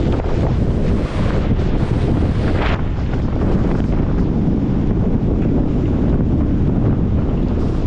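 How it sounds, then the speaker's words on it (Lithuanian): Strong wind gusting on Hiiumaa island during a solo motorcycle trip, a loud continuous roaring buffet across the microphone with no talk. "pučia drūčiai"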